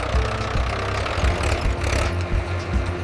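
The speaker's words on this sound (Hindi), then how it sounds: "ये है ट्रैक्टर।" A running tractor engine, its low rumbling chug pulsing steadily up close and alone with no talk, with small surges in level now and then.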